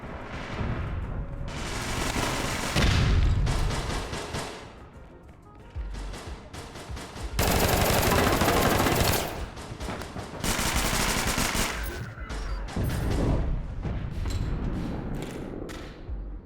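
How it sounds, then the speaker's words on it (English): Tommy gun firing in a video game: long, loud bursts of rapid automatic fire broken by short pauses, with heavy thumps and explosions mixed in. "Gotta love this Tommy gun."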